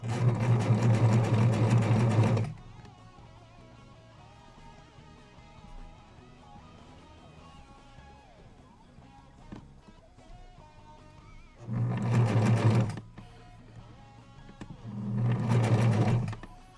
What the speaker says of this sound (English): This is number 6 that we're sewing of his legs.